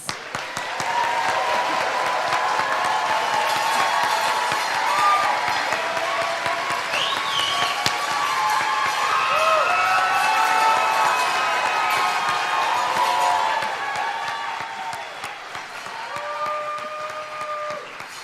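Sustained applause from a large audience at a nursing pinning ceremony, steady dense clapping with some cheers and whoops, holding for about thirteen seconds before tapering off, with no talk over it.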